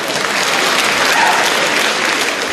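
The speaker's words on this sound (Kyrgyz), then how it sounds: "бир жакшылап кол чаап койсоңуздар" An audience at a Kyrgyz gathering breaks into loud, sustained clapping, a dense even wash of applause that holds steady without a break from start to finish.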